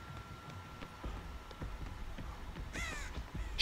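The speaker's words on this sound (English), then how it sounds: "Shut up, crows!" Crows cawing in the Dead by Daylight video game, a few harsh caws near the end over a dark, faint ambient background with scattered soft thuds, no talk.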